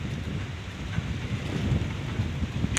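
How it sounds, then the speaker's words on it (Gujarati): Strong black dust storm wind roaring outdoors, a steady broadband rush with gusty swells and scattered low rumbling buffets, continuous and loud throughout with no voices. "काली आंधी है देखो"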